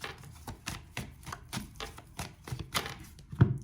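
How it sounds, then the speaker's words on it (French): Tarot cards shuffled by hand in a rapid series of soft slapping taps, about a dozen in quick rhythm, close and fairly quiet, ending with a firmer thump. "je vais mélanger un peu ces cartes là"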